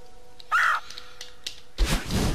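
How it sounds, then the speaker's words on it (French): A crow caws once in the Celeste video game, a short harsh call standing out over quiet synth music, followed by a louder burst of game sound. "c'est quoi ça le corbeau là?"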